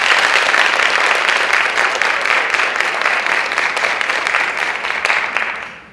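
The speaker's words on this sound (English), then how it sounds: "let's give a special round of applause to the people on stage." Sustained applause from an audience at a middle school young composers concert, dense steady clapping filling the room at full strength before tapering off at the end.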